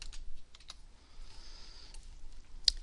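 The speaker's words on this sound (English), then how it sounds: "I'm going to type in coffee images" A computer keyboard types a web image search with quiet, irregular clicking keystrokes scattered through a faint room background, ending in one sharper click.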